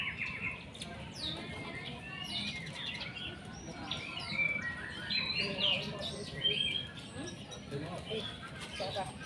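Varied chirps and whistled phrases from a tame white-rumped shama, fairly faint against low background noise, with a murmur of voices underneath.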